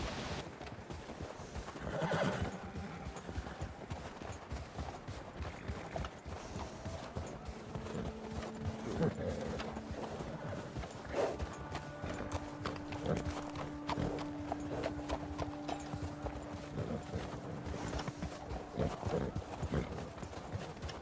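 Horses in Red Dead Redemption 2 on a group trail ride, hooves clip-clopping steadily throughout with a clear drawn-out neigh partway through, plus faint background chatter.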